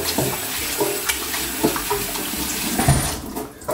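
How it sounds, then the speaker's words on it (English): Tap water runs steadily into a sink while hands are washed and rubbed under it, a continuous close splashing stream with small bumps and a brief lull near the end. "we have to make sure we wash our hands"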